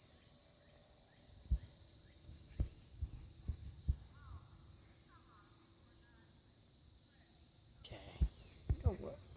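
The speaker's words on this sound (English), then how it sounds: "listen to the cicadas" Cicadas drone steadily at a high pitch through a garden setting, a continuous buzzing band with a few sharp nearby thumps and soft background noise.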